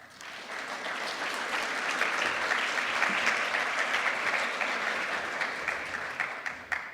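Sustained audience applause at a corporate analytics conference, steady and full for about seven seconds, fading slightly at the end as a speaker is welcomed onto the stage.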